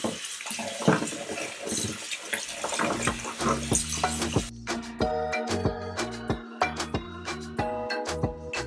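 Running tap water splashes over minced meat in a metal strainer at a kitchen sink for biryani, a steady rinsing stream followed by scattered clinks and drips, close and clear.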